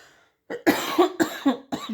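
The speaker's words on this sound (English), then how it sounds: "Excuse me for coughing." A few harsh coughs in quick succession, close and fairly loud, after a brief silence.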